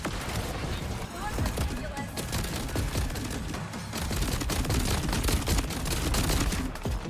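Legendary gun firing in Borderlands 4, dense rapid bursts of gunfire with impacts, continuous and loud throughout, with talk over it.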